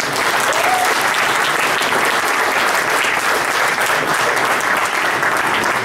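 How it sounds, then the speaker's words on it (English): Audience applause at a high school wrestling awards program fills the room, steady dense clapping from a sizable crowd, loud and continuous throughout with no speech over it. "give one more round of applause for all the gentlemen for all their hard work"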